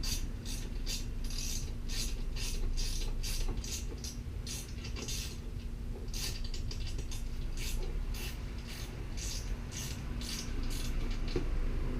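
Ratchet wrench tightening 10mm bolts on roof top tent mounting tracks for an Overland Pros Anza 2000 tent, a steady run of rapid clicking pawl strokes in repeated bursts over a low background hum.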